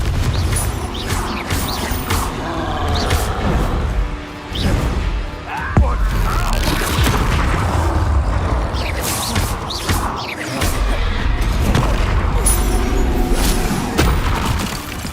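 Confringo blasting spells set off booming explosions in the video game Hogwarts Legacy, with repeated heavy blasts, crashes and mechanical clatter in a loud, dense battle mix.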